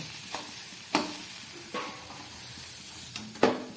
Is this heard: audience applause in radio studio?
no